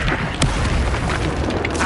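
A Confringo explosive spell going off in Hogwarts Legacy, a single deep boom with a brief bright burst about halfway through, set against a steady backdrop of game noise.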